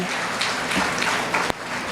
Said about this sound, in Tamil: நல்ல உற்சாகம் நிறைந்த ஒரு கைத்தட்டலை கொடுத்துருங்க